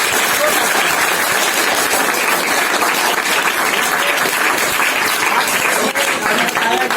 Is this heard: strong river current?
no